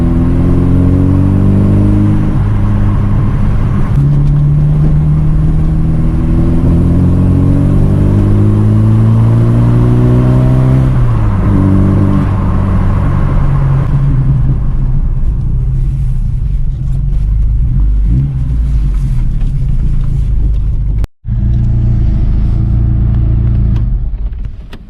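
A 1986 Ford Capri with its 2.0 Pinto engine pulls along the road, the close, loud engine rising and falling in pitch through the gears over steady road rumble, with a brief dropout near the end.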